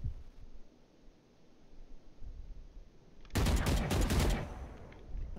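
A burst of rapid gunfire in the video game Valorant erupts after a quiet stretch of faint background noise, loud and dense for about a second before fading out.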